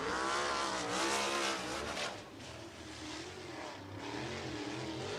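USAC sprint car lapping the Lincoln Park dirt oval during the Bill Gardner Sprintacular, a loud roaring engine sweeping past with rising and falling pitch, fading slightly then swelling again as it comes around.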